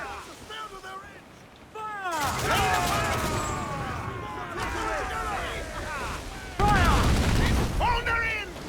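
Ship cannons firing in a naval battle in Assassin's Creed IV Black Flag, heavy booming blasts over wind and sea noise, with crew shouting throughout.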